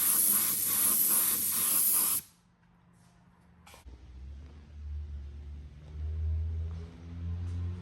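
Aerosol primer sprayed onto the bare metal of a restored OEM trunk lid for an SRT4 car, a loud steady hiss lasting about two seconds, then cutting off abruptly into quiet room tone with a low hum.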